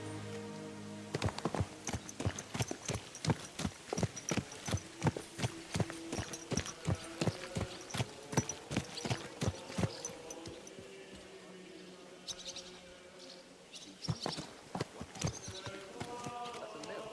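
Steady clip-clop of horse hooves in Kingdom Come: Deliverance II, a brisk regular rhythm that pauses briefly near the end before resuming, with faint background sounds.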